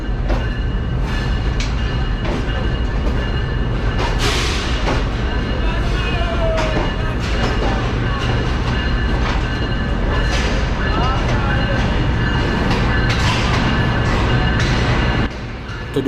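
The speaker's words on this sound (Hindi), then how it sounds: "ट्रेन हमारी लाहौर रेलवे स्टेशन के मेन प्लेटफॉर्म यानी प्लेटफॉर्म नंबर 2 पर अप्रोच बना रही है" Green Line Express train pulling into platform 2 at Lahore railway station, a loud continuous rumble of wheels on rails with clanks, squeals and clatter, easing off at the very end.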